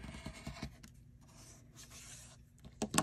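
A blade or rotary cutter trimming the edge of a half square triangle quilt block along a locked ruler, a few quick scraping cuts, close and quiet with no voice over it.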